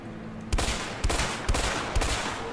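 Gunshots in the video game A Way Out, four sharp, evenly spaced shots about half a second apart, loud and close, with no talk over them.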